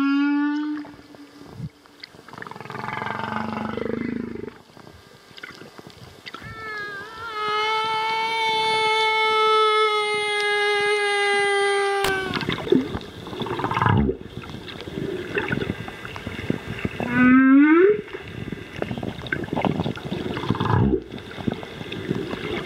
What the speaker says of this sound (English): this humpback whale was singing very, very loudly